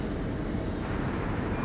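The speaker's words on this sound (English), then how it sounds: "Global Express headed down to 16 left." A Global Express business jet rolls down runway 16 left at Sydney Airport, giving a steady, broad engine roar that holds evenly throughout with no voices.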